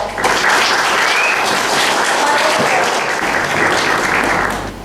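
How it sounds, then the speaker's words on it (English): Sustained applause from a Toastmasters audience, loud and steady for nearly five seconds with a broad, even roar of clapping hands that tapers slightly at the end. "let's give our speaker a round of applause"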